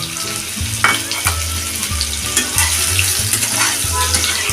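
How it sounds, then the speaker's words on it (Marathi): Raw green mango pieces stir-frying in hot oil with fenugreek seeds, mustard seeds and asafoetida, giving a steady close sizzle broken by the scrape and clatter of stirring. "आता हे आपण मिनिटभर परतून घेतलेली आहेत फोडी"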